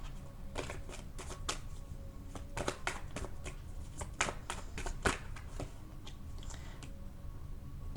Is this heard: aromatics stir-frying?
no